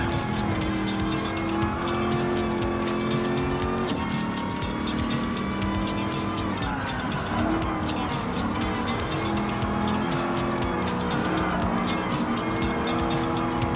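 A Ford Mustang Mach 1 classic muscle car racing in Gran Turismo Sport, with a continuous loud engine roar through gear changes and repeated tire squeals and skids.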